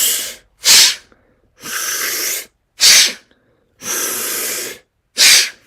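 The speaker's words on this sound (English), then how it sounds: "You breathe in through your mouth and push out through your nose." A person forcefully blows breath out through the nose in a sneeze-like breathing exercise. Six loud, hissing bursts alternate between short sharp puffs and longer sustained blasts, separated by brief silences.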